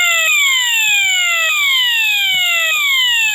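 Fire alarm signal from a 1989 Moose Z900 alarm panel: a loud electronic tone sweeping downward in pitch, repeating about every 1.2 seconds, steady and close, with no talking.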